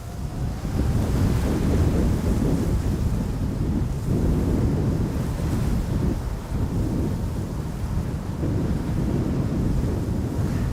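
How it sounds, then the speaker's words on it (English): Strong wind blowing across an airport, a loud continuous roar buffeting the microphone with surging gusts throughout and no voices. "Wind is not slowing down by any means."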